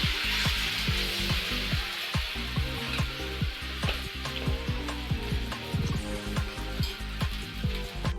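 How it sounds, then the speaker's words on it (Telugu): Pulla attu dosa slowly fries in oil on a pan, giving a continuous close sizzle with frequent small crackling pops throughout. "సిమ్లో పెట్టుకుని ఇలాగ స్లోగా కాల్చుకుంటే మనకి అట్టు కూడా నీట్గా వస్తుంది, చక్కగా కాలుతుంది."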